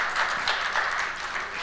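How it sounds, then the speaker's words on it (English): An indoor audience at a business gathering claps steadily, a dense, fairly soft wash of applause that holds for a brief moment and tapers slightly near the end. "Yeah, you can applaud nicely also."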